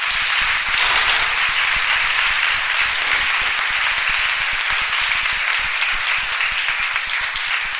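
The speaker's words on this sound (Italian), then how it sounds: "Perciò vi chiedo un applauso per loro." Conference audience applauding, a dense steady wash of many hands clapping at full strength throughout, with no voices over it.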